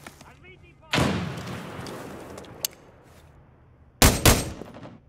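Grenade blast and gunfire in a shooter video game: a loud explosion about a second in with rumbling decay, a sharp crack mid-way, then two more close, loud blasts near the end, with voices talking in the background.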